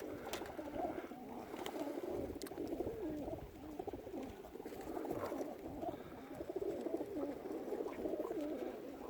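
Domestic flying pigeons of the Murzyn and Budapest breeds coo steadily in a loft, their soft low calls overlapping continuously at close range with no talk.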